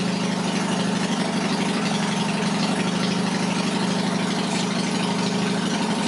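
A Yamaha XS650 motorcycle engine idles at around 1100 rpm with a top-end oil pressure gauge fitted, a steady, close, low mechanical rumble with an even pulsing beat and no talk.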